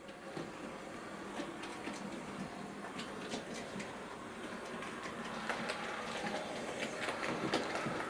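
A Hornby R3855 Queen Maude model steam locomotive runs very slowly along the track, giving a faint continuous whirr with soft irregular clicks and ticks as the wheels roll.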